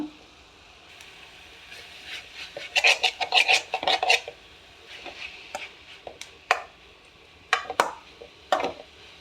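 Beetroot and cabbage thoran being stirred in a pan, giving bursts of scraping and clinking of a spoon against metal, with irregular close scrapes and taps separated by quiet gaps.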